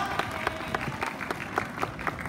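Scattered applause from a crowd at an outdoor festival dance performance, modest and somewhat distant, with individual claps standing out in an uneven rhythm.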